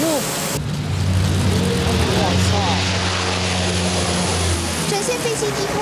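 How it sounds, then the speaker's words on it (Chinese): A P-3C anti-submarine propeller aircraft makes a low pass during an air force demonstration, with a loud, steady engine roar that swells and holds for several seconds, and a voice heard faintly at times. "展现飞机低空冲场性能"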